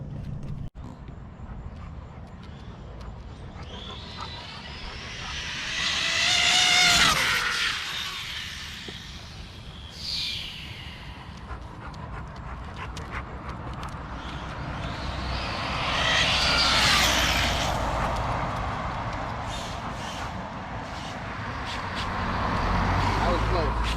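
A 6S-powered Team Associated TP Talion RC car whooshes past at high speed, its motor whine swelling and fading. A second, similar pass follows about ten seconds later, with people talking throughout.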